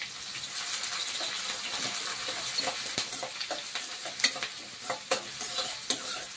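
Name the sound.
stirring onions, green chillies and curry leaves frying in oil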